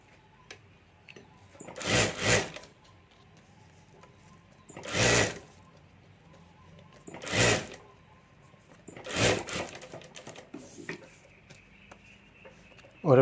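A sewing machine stitches fabric over a rubber sheet for a party bag in four short, loud bursts about a second each, with quiet pauses between them.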